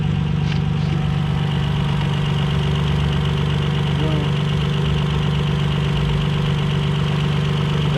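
A 2002 Toyota Highlander engine idles steadily after knock sensor replacement, a loud, close, even low rumble with a constant hum that holds for the whole stretch without changing.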